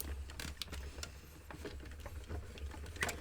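Smooth cardstock fed steadily through a hot foiling machine, giving a soft mechanical whir with rapid light ticking and patter throughout, fairly quiet with no talking.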